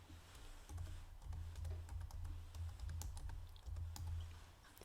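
Text being typed on a computer keyboard while working in OpenOffice Impress, a steady run of quiet, close key clicks with soft irregular rhythm and no talk.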